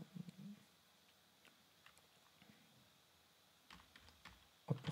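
Light, soft keystrokes on a computer keyboard, a few scattered taps early on and a short quick burst near the end, close and quiet in an otherwise still room.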